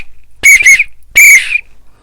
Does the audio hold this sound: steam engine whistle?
yes